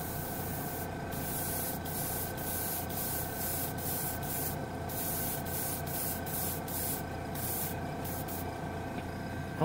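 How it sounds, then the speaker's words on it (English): Airbrush blowing plain compressed air to dry acrylic paint, a steady close hiss with the compressor running underneath, broken by brief regular gaps in the spray. "we're going to just blow it with some air. Just air is coming out. Compressor's coming on."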